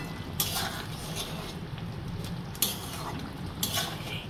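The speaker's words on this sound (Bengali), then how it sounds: "এবার আমি 1/2 চামচ মতো ঘি অ্যাড করছি। ঘিটা আমি ভালো করে মিশিয়ে নেব।" Ghee being stirred into a spicy prawn curry (jaal chingri kosha) in a pan, with a soft continuous scraping and a few light clinks of the spoon against the pan, fairly quiet.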